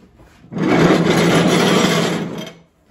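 A 48-inch mower deck slides out from under a John Deere D140 riding mower, giving one continuous close scraping rub of metal dragging for about two seconds before stopping.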